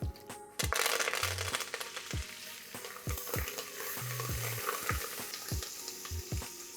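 Mustard seeds, red chilies, curry leaves, peppercorns, cumin and asafoetida sizzling in hot oil for curry leaves pulao, with a steady crackle and repeated sharp utensil clicks as the pan is stirred close by.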